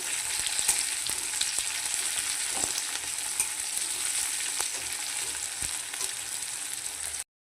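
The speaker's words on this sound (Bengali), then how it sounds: "এই দেখুন টমেটো আর পেঁয়াজটা ভাজা হয়ে গেছে" Chopped tomato and onion fry in a pan, a steady loud sizzle with faint stirring scrapes running throughout, then cutting off abruptly near the end.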